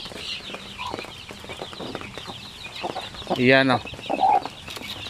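Young native Zampen and Basilan chicks peep in a thin, continuous chatter nearby, with a louder, harmonic clucking call rising briefly midway and a person speaking a few words.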